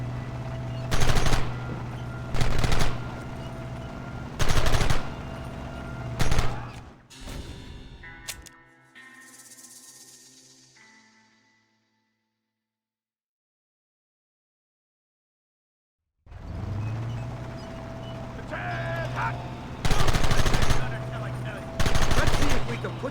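Gunfire in Red Dead Redemption: loud bursts of shots in several clusters, then a fading tail and a long silence before another round of shots resumes.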